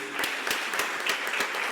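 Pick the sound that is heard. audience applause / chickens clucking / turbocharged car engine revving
audience applause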